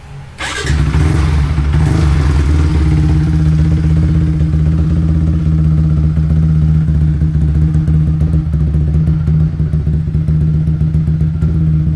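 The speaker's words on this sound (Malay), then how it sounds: "Sikit bagi korang dengar bunyi je" A motorcycle with a loud open exhaust starts and then runs hard, its deep throaty roar steady and close for the whole stretch.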